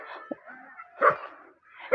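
A dog barks at a visit to a family home, with a few short sharp yips spaced across two seconds, fairly close amid faint background sounds.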